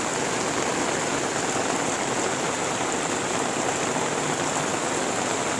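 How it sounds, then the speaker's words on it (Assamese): Heavy rain pours in a dense, unbroken hiss of countless drops striking surfaces, loud and close, holding steady throughout with no talking. "ৰামফা বৰষুণ"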